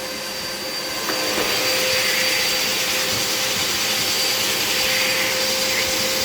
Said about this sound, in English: vacuum cleaner, I always did like a Hoover. This Hoover XL Pet.